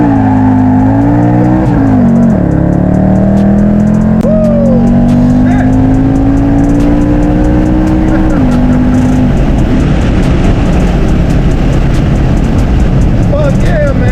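Supercharged and tuned 2014 Ford Mustang GT accelerating hard with a loud, rising engine roar that climbs through the gears, one shift near the start, then settles into a rough, heavy rumble; voices speak over it from inside the car.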